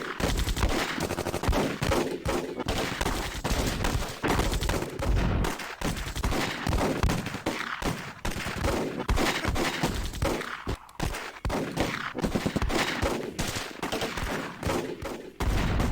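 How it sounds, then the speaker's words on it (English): Squads in a Second World War tactical game trade gunfire: dense, continuous bursts of machine-gun and rifle fire with overlapping shots, loud and sustained, and no voices. "And then they can start firing on this squad here."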